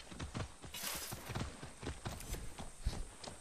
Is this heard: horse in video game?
yes